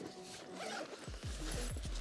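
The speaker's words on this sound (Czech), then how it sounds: "jestli najdu zip" A backpack zipper pulls open in several quick, close rasping strokes, loud and crisp with no talk over it, while packing gear for racing drones.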